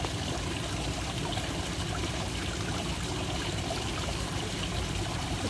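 Running water flowing steadily from a tap, a constant loud rushing and splashing that continues without break for the whole stretch; no shutoff is evident.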